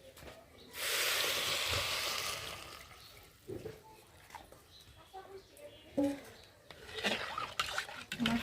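Water poured into rice frying in a pan for vegetable pulao, bursting into a loud hiss of sizzling that fades over about two seconds, followed by quieter cooking clatter and intermittent voices.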